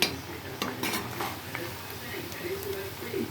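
Prawns tossed with masala, salt and chili powder in a pan for a pickle, giving soft stirring scrapes and light sizzling with a few utensil clinks, close by and fairly quiet.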